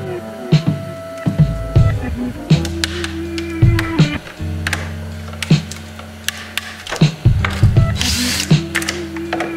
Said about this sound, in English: Take a screwdriver.